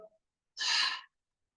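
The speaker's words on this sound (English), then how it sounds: "Inhaling, fast exhale." A single fast, forceful breath out through the mouth, close and clear, lasting about half a second after a brief faint sound, then silence.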